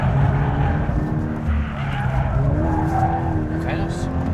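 A Ford Focus RS or Toyota GT86 drift car slides with continuous tire squeal and a droning engine throughout, loud and close, while people talk over it.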